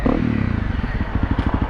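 A Honda CRF dirt bike engine runs close by with a rough, pulsing idle that steadies into a rapid, even throb, loud and alone without talk.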